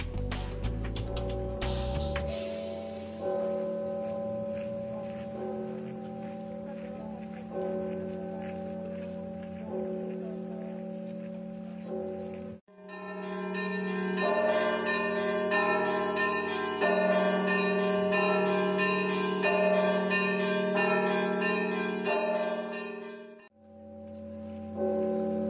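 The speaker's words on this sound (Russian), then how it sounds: "Звонарь приступил к своей работе, и мы послушали перезвон колоколов." Church bells pealing in the kremlin belfry at Rostov Veliky, rung by a bell ringer: sustained overlapping tolls, then a denser, brighter peal of smaller bells layered over deep bells, loud and continuous with a brief pause near the end.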